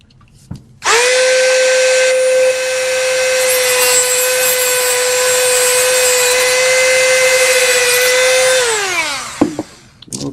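A woodturning lathe cuts a wooden jar lid with a 5/8 inch bit, giving a loud, sustained high whine that holds steady for about eight seconds and then winds down.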